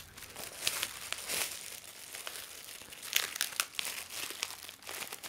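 Plastic wrap and packing tape crinkle and tear as a comic book package is unwrapped, a steady busy rustle with sharper crackling bursts, close and moderately loud with no talking.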